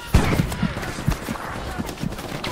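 Enemy gunfire in a shooter video game, rapid close bursts of shots in an uneven rhythm, loud and punchy over a busy background.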